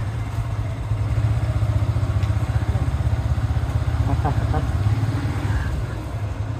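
Motorcycles run at night while a cow is towed behind one, a steady mid-pitched engine drone and light clatter continuing throughout, with people talking faintly over it.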